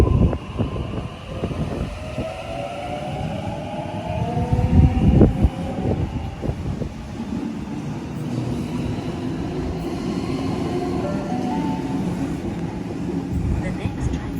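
A suburban or intercity train rolls through Newtown station past the platform with a rumbling, clattering passage that swells midway and then settles into a steady hum. A station announcement voice speaks over it.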